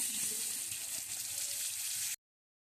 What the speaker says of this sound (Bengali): তেল দেওয়ার পরে একটু হলুদের গুঁড়া, একটু মরিচের গুঁড়া দিয়ে সুন্দর করে আলুগুলোকে ভেজে নেব।